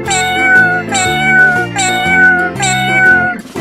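Cartoon cat meows repeated four times in a steady rhythm in a colourful animal video game, loud and clear with no talking.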